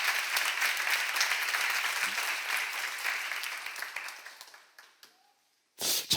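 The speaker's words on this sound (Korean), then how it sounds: "박수를 하고 있어요." Audience applause at a Korean church seminar, a dense wash of clapping that holds steady for several seconds, then thins and fades into near silence before a short burst returns at the end.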